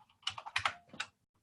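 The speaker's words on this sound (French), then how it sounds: "C'est un truc de geek, ça, les claviers qui font du bruit" Rapid clattering keystrokes on a loud mechanical computer keyboard, a burst of close clicks lasting about a second before stopping.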